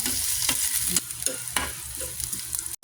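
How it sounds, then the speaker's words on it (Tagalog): Chicken adobo sautéing in a pan, a loud continuous sizzle broken by repeated scraping stirs of a utensil about every half second, with no voices. "Ngayon naman, magsasatay na tayo."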